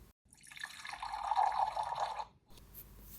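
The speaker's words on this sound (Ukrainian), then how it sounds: "Правильно, це вода." Water dripping and trickling in a steady wet patter for about two seconds, fairly close and clear, then stopping into near silence.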